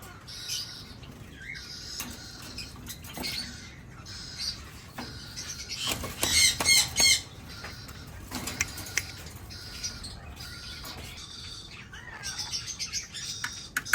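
A breeding pair of lories calls and chirps repeatedly over fourteen seconds, with sharp, scattered tweets and a denser cluster of shrill calls midway, amid background aviary noise.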